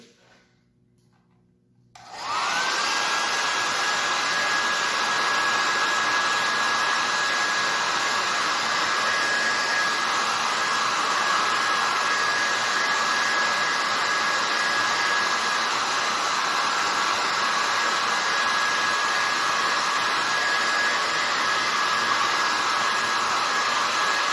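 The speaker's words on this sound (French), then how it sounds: "On va sécher le tout encore avec le séchoir à cheveux." A hair dryer switches on after a brief quiet moment and blows a loud, steady whooshing roar with a constant whine to dry an acrylic paint monotype, continuing unchanged for over twenty seconds.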